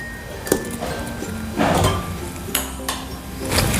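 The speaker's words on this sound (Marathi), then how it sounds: "असा काटेरी चमचा घ्यायचा आणि याला छिद्र पाडायचे, त्यामुळे आतपर्यंत वांगे शिजतील." A metal fork repeatedly stabs into an oiled eggplant, giving several light, uneven taps and scrapes that recur every second or so against a quiet kitchen background.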